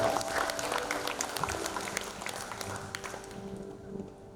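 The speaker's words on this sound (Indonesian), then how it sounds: "Tepuk tangan untuk direktur umum." An audience at a Bank Sumsel Babel gathering applauds the general director, with dense clapping that gradually tapers off toward the end over a faint background hum.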